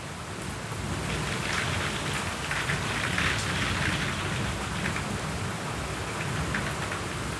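A heavy rain shower falls outdoors, a loud, dense and steady hiss of raindrops on surfaces that continues without a break from start to finish.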